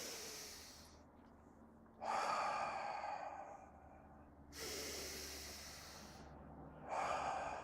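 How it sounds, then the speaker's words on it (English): Slow breathing exercise, drawn in through the nose and let out through the mouth: two long, close, airy breaths alone against a quiet background, with a third breath starting at the end. "I do this breathing exercise quite a bit too"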